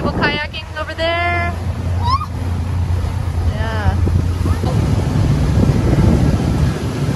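A motorboat runs on Kaneohe Bay, Hawaii, with a steady low engine drone and wind buffeting the microphone while people talk briefly over it.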